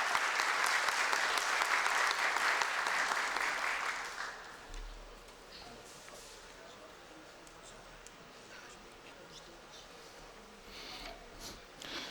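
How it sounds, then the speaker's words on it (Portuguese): An audience at a formal award ceremony in Rio de Janeiro applauds with dense clapping for about four seconds, then the sound dies away into quiet room murmur. "Uma salva de palmas,"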